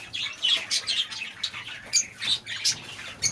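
Several aviary birds squawking and chirping in quick, irregular bursts, fairly close and alone without talk.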